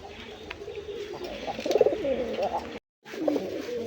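Pigeons at a Bangladeshi pigeon farm give soft cooing calls over a steady background murmur, with one louder burst of cooing midway and a brief gap of silence near the end.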